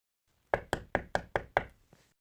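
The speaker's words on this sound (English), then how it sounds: "Whence is that knocking?" Six sharp, evenly spaced knocks on a door in a staged performance of Shakespeare's Macbeth. They are close and loud, with a faint seventh tap trailing off at the end. No voices are heard.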